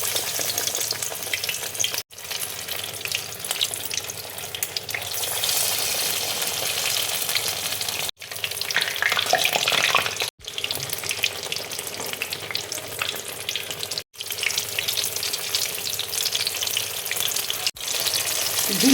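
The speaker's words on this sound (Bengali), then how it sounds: "এবার দেখো আপেলগুলো আমি ব্যাটারে ডুবিয়ে আর আমি তেলের মধ্যে ভেজে নেব।" Batter-dipped apple slices fry in hot oil, a steady, dense crackling sizzle running throughout, broken by a few brief gaps, close and fairly loud with no voices.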